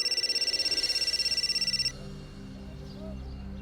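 A telephone rings unanswered in a rapid repeating electronic trill for about two seconds, then stops and leaves a quiet room tone with faint background music.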